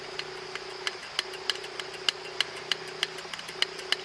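The fuel bottle of an Optimus Nova burner, part of a vintage red Trangia 27 kit, is pumped by hand: a quick, even series of sharp clicks, about three per second, over a low steady hum.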